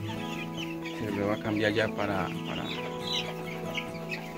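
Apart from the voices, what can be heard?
broiler chicks clucking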